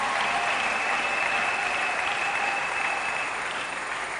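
A congregation at a missionary convention claps steadily in acclaim of the Lord, a dense uniform wash of applause at moderate level with no speech.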